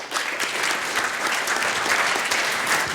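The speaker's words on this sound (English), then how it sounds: "So please give an applause for Peter Rudge." Audience at a seminar clapping to welcome a speaker, a dense, loud, continuous round of applause with no voices over it.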